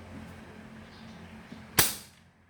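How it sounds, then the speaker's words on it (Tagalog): A repaired and repainted air gun used for hunting fires a single sharp, loud shot that decays quickly, heard alone above a low background hum. "Okay na tropa, pumuputok na."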